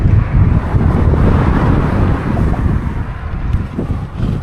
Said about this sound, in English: This wind is so insane!